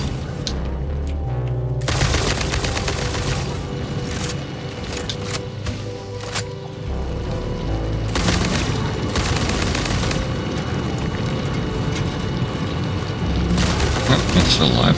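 Rifle gunfire in the video game Satisfactory, heard as dense, loud bursts of rapid shots and booming impacts that go on almost without a break, with game sounds layered underneath.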